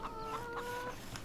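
Chickens cluck repeatedly at a coop in Farming Simulator 2017, a few short, close calls in a quick rhythm over a soft, steady farm background.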